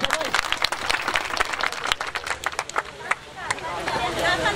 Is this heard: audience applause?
yes